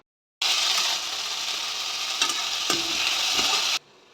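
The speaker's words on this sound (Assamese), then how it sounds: "এইপিনে এতিয়া মই কুন্দুলি ভাজিম।" Ivy gourd (kunduli) frying in a pan, a steady loud sizzle that starts abruptly and runs for about three seconds, broken by a few short scrapes and clicks of stirring before cutting off.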